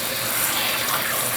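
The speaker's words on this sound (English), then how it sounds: "So let me prep and wash our mushrooms." Tap water runs steadily into a sink while fresh mushrooms are rinsed for cooking, a continuous close-up gushing wash that stops abruptly at the end.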